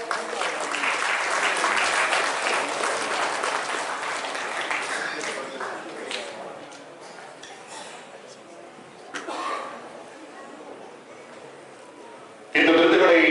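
Audience applause at an award ceremony of a human rights peace conference in Jaffna, a sustained dense clapping that thins out midway, then a second louder burst near the end, with a voice speaking over parts of it.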